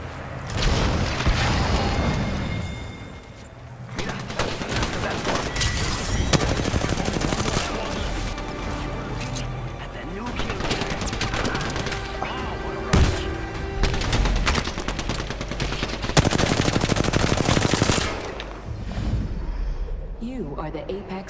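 Video game gunfire: rapid bursts and single shots crackle and boom over several seconds, with mechanical clanks between them and a voice talking throughout.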